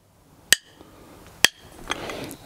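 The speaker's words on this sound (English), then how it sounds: "the drumstick sound" Two sharp wooden drumstick clicks ring out about a second apart, each crisp and bright, followed by a fainter tap and low room noise.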